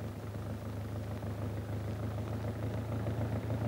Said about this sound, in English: using the motor winch